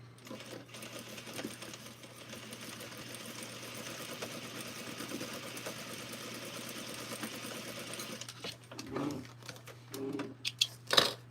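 A sewing machine runs long, steady basting stitches at a constant hum, with a few brief handling clicks and shifts near the end; no talking.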